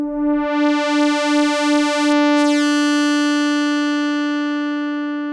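A steady, buzzy synth pad tone made of two identically tuned sawtooth oscillators, with a gentle phasey pulsing wobble early on, then holding bright and even.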